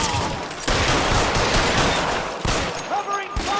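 Gunfire in the video game L.A. Noire comes as a rapid fusillade of overlapping shots, loud and dense. It breaks off in bursts near the end, with shouted voices mixed underneath.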